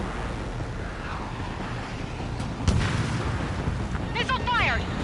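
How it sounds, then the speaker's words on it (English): A missile launch in a PS4 video game: a sudden whooshing blast midway over steady engine rumble, followed by beeping lock-on tones near the end. "Missile fired!"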